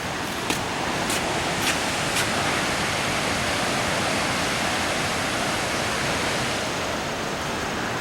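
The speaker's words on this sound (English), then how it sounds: "This is a waterfall observation for Inukai waterfall." Inukai waterfall in Kagoshima, Kyushu, roars loud and close as a dense, unbroken wash of falling water, with a few faint clicks near the start.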